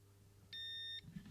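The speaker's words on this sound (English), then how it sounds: "I just see if I get a beep" A multimeter in continuity mode, checking guitar wiring, gives one steady electronic beep of about half a second, clear and close, with faint handling noise after it.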